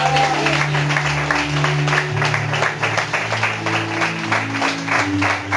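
A church congregation claps together during a sermon, dense continuous applause running throughout, with sustained musical tones underneath.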